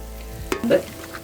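Onions browning in a pan for a Kerala-style pork curry, heard as a brief burst of sizzling and a quick stir against a low background.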